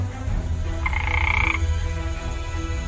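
A frog gives a single loud, clear croak lasting under a second, close by and standing out over a steady low background rumble. No voices are heard.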